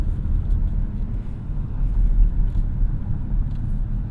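A 2024 Lexus NX 350 Hybrid accelerating to overtake, heard from inside the cabin as a steady, loud low road and engine rumble with a faint rise in intensity and no talking.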